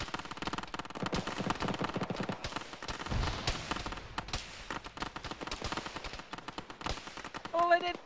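Rapid gunfire, RPG blasts and booming explosions crackle continuously in a busy military video game soundscape, with loud bursts throughout and a brief musical tone near the end.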